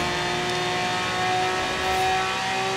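The armored Gurkha in the racing game Forza Horizon 3 accelerates, its engine holding a loud, steady, rising drone with a dense harmonic tone and no voices over it.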